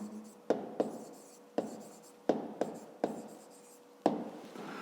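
A pen writes on paper during a fifth-grade maths exercise, a quiet close-up run of scratchy strokes with sharp taps at each new mark, about eight distinct strokes in five seconds.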